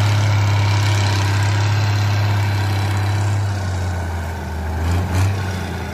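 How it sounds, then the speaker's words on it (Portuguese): A Valtra 1280E tractor engine runs steadily with a loud, deep idle rumble close by, a constant low drone that swells briefly near the end. "trator partindo mesmo, pessoal."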